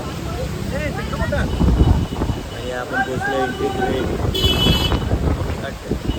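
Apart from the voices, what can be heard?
strong stormy wind at the coast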